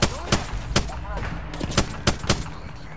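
Sharp gunshots in the video game Apex Legends, about seven spaced bursts cracking loudly over a busy background, while players talk over the action.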